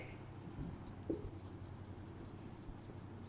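Pen or marker strokes scratch across a board or page in a classroom, faint and intermittent beneath steady room noise, with a soft voice murmuring.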